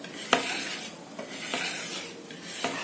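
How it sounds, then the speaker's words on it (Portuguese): A whisk working strawberry cake batter from the bottom upward in a pan, giving soft, wet swishing strokes with a few sharp taps of metal against the rim, close up and with no voices. "Eu vou mexendo"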